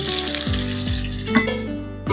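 Chopped onion goes into leftover fish-frying oil seasoned with black cumin. A bright, steady sizzle rises, marked by a few low clunks of the spoon and pan, with no voices.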